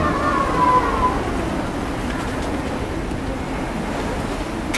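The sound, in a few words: sea waves and wind while sailing on the Baltic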